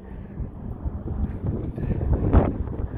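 Low, rumbling wind buffets the microphone in uneven gusts, with one stronger blast near the end.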